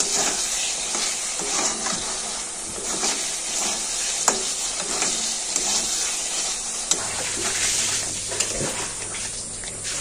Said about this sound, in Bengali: আগে থেকে যে বেরেস্তা করে রেখেছিলাম পেঁয়াজটা দিয়ে দেবো। দিয়ে আবার একটুখানি কষিয়ে নেব।